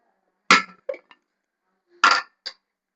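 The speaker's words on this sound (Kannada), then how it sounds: "ಕುಕ್ಕರ್ ತಗೊಳ್ತಾ ಇದ್ದೀನಿ." Metal pressure cooker handled in a home kitchen before boiling potatoes: two loud clanking knocks, each followed by a quick lighter clink, close and separated by silence.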